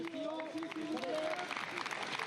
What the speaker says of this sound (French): Et des applaudissements également